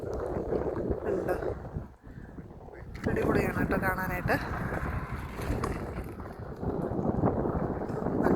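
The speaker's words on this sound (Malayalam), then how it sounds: "ഇവിടെ ഭയങ്കര കാറ്റുവാണേ," Strong wind at a rocky hilltop viewpoint buffets the microphone in loud, rumbling gusts throughout, with a brief lull early on, while a person talks over it.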